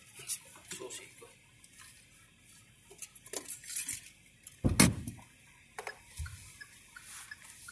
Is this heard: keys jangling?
yes